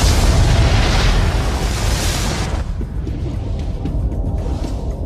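A dramatic explosion, a loud broadband blast that roars for about two and a half seconds before dropping into a sustained low rumbling tail, with no voices.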